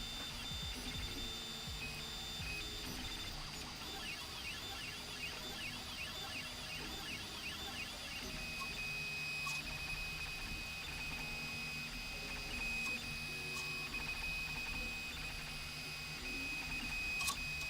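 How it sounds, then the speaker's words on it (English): A self-built Voron V0.1 3D printer printing a Voron Cube, giving a steady close hum with whining, sweeping stepper-motor tones, no talk. "Here, that's what we're printing, a Voron Cube."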